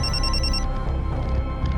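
A mobile phone ringtone trills in a repeating electronic pattern, clear and fairly close, then cuts off partway through, leaving a low room hum with no talking.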